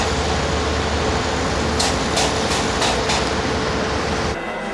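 Paris metro train in motion, a loud continuous rumble and rattle heard from inside the car with a few brief hissing squeals, easing to a quieter hum at the end.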